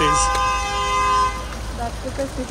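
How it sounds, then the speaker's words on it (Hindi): Car horns honk loudly nearby on a street where a van is badly parked, one long sustained blast with another beep early on, followed by street noise and a voice talking. "हॉर्न बज रहे हैं इतनी तेज़"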